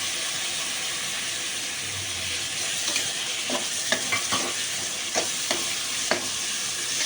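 Medium tomatoes drop into a pan of sautéing onion, ginger, garlic and green chilli, giving a steady sizzle with a run of sharp stirring clicks and scrapes in the middle and toward the end.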